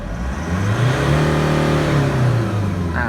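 Nissan Navara D40 pickup engine revving during a diagnostic data check, the pitch climbing and holding high before falling back, one sustained close rev heard alone.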